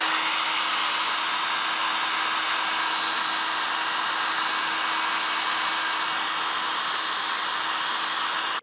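A heat gun runs steadily while shrinking heat shrink tubing over motorcycle wiring, giving a loud, continuous blowing hiss with a faint hum and no break for the whole stretch.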